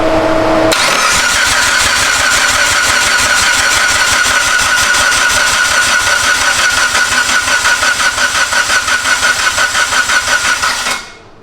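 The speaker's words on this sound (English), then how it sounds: "Okay, crank it." A Harley-Davidson Evo motorcycle engine cranks on the starter in a loud, steady rhythmic whirring chug that runs for about ten seconds without firing, then winds down and stops.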